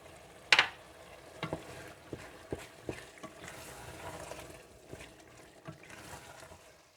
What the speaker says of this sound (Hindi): और जब कलेजी अच्छी सी भुन जाए और घी अलग हो जाए